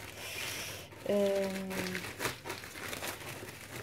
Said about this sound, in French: Donc je prends une feuille de papier de soie